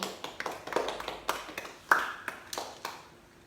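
A school class claps for itself, a quick scattered round of hand claps from a small group in a room, fairly soft and fading toward the end.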